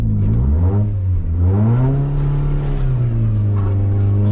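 A Toyota Tercel's small engine revs hard and rises and falls in pitch as the car is pushed through rough woods terrain, loud and close throughout with strained, wavering acceleration.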